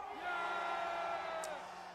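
A large rally crowd in Geumnam-ro shouts and cheers in a loud, sustained roar of blended voices that swells early and then slowly tapers off toward the end.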